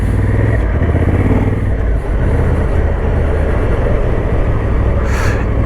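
Honda Africa Twin Adventure Sports 2024 adventure motorcycle on the move, a loud, steady engine drone with rushing wind and road roar running continuously, a brief hiss near the end.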